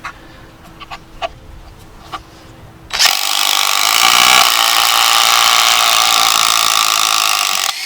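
A DeWalt impact driver drives a 6-inch screw, bursting in after a few faint taps and clicks with a loud, continuous hammering whir that holds for several seconds close up.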